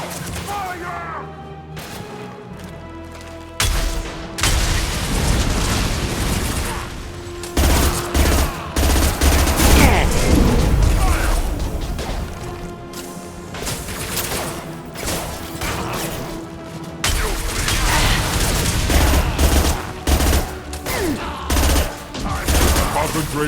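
Sustained automatic gunfire in a Mass Effect 2 firefight mixes with booms and crashes, loud and close in long heavy bursts, with combat voices talking over it.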